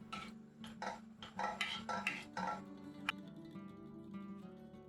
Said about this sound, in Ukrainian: Перемішуємо все гарно.